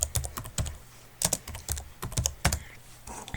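Quick close-up clatter of computer keyboard keys as a command is typed, irregular bursts of sharp clicks and thocks over a few seconds, no talking.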